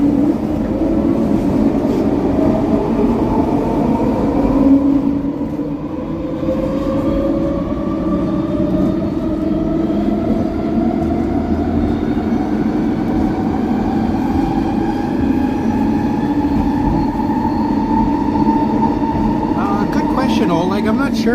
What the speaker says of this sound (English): This is an elevated train, which is going to take us to a town called New Westminster